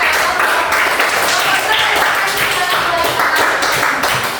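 A classroom of students bursts into loud, dense applause during a lesson, the rapid clapping continuing evenly from start to finish with no pause.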